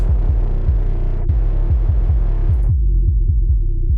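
A soloed, heavily distorted synth layer from a mix with distorted 808s, playing a loud, dense, throbbing low buzz in repeating pulses that drops to a thinner hum near the end.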